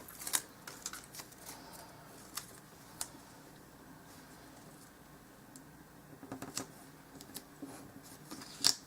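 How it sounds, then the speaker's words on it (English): Stickers being peeled and pressed into a Happy Planner, giving faint, close, sporadic crackles and ticks of paper with no talking. "I don't know why I'm having so much trouble peeling stickers today"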